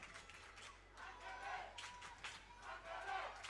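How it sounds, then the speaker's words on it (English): A crowd at an under-15 boys soccer final at Toyota Stadium in the Dallas Cup chants and roars in a distant, faint swell, rising and falling beneath a steady low rumble and nearby talk. "You hear this Angeles crowd coming to life now."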